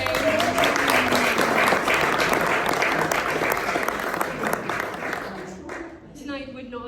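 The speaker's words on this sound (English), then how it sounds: "so a quick round of applause for Graham" Audience applause for a community evening host, a dense steady wash of clapping that tapers toward the end, with a voice speaking faintly underneath.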